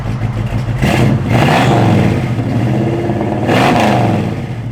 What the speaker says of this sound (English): Give a little rev, Dale.